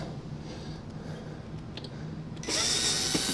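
Power drill removing screws from an APC UPS battery module, starting with a sudden loud continuous whir near the end after a quiet stretch of faint handling clicks, heard close up.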